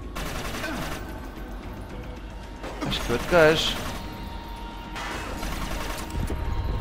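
Gunfire in the shooter game Inversion, a few sharp bursts of shots with mechanical clatter, heard under casual talk between players.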